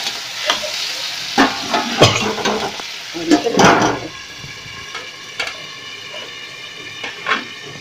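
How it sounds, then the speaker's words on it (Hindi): Gatte are fried and stirred in a pan over a low flame, with a gentle sizzle under repeated clattering spoon strokes and scrapes, loud and close, easing off toward the end. "कम आंच पर दस मिनट तक इसे भूनने देंगे"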